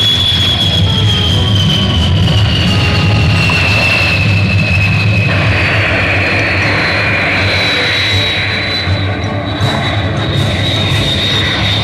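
F-15 fighter jet engine, a loud continuous whining roar with a high tone slowly falling in pitch over a deep rumbling base, steady throughout with no talk.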